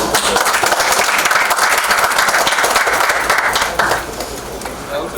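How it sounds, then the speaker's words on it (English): Audience applause at a medical conference session on live knee replacement surgery: a dense, sustained wash of many hands clapping throughout, loud and steady, easing slightly near the end. "I would like everybody to give a big round of applause."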